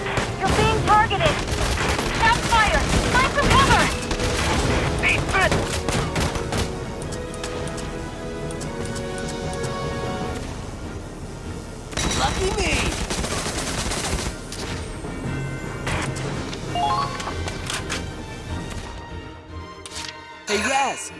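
Sustained battle gunfire from the video game Valkyria Chronicles 4, dense rattling bursts and shots layered over music and shouted voices, loud and continuous throughout with a brief lull near the end.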